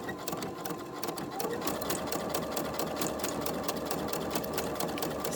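A sewing machine runs steadily along the seam of a LuLaRoe Deanne dress being altered, a continuous close mechanical whir with rapid needle ticks and no talking.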